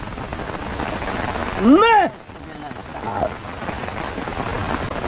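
Heavy rain pours steadily in a constant dense hiss during a thunderstorm downpour, while a man briefly exclaims and a voice swoops over it.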